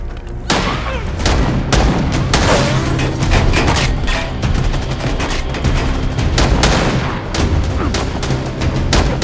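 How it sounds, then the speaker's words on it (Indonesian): Heavy gunfire from a movie shootout between a farmer and cartel gunmen: dense bursts of shots and booming blasts crowd one another without pause, loud and close, with no talk. "Dan pada akhirnya, baku tembak pun dimulai."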